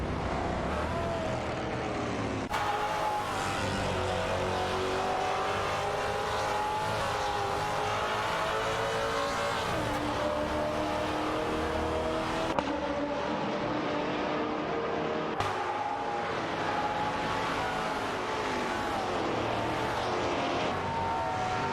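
Race cars in an AI racing video game accelerate hard, engines revving in continuous loud, rising pitch sweeps with gear shifts, several cars overlapping, no talking.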